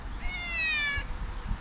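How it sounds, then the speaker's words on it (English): A cat meows once at a railway platform in Bugle, a single drawn-out, clear call sounding close by over low background rumble. "There's a cat!"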